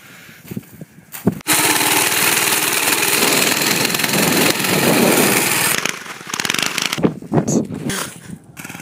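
A minibike engine running without its exhaust blasts loud and raw for several seconds, then drops back to sputtering idle with brief voices around it.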